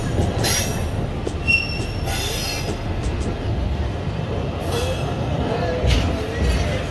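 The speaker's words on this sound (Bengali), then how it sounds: "আমাদের ট্রেন তার যাত্রাপথের প্রথম স্টেশন গ্যান্ডারিয়া রেল স্টেশন পার করছে।" Rumbling wheels of a passenger train on the Dhaka to Mawa line roll past Gandaria station, broken by several sharp, high-pitched wheel squeals. The sound is loud and continuous from on board, with no talking.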